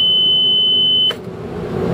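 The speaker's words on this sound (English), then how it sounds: "That is a no oil pressure alarm" A boat engine's no-oil-pressure alarm sounds as a loud, continuous high-pitched electronic tone that cuts off abruptly about halfway through, leaving a low engine-room hum behind.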